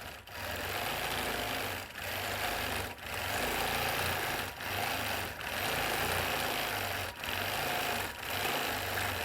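A quilting machine stitches a table runner, sewing between a tree trunk and tree motif. It gives a loud, continuous motor buzz broken by short regular dips every second or so.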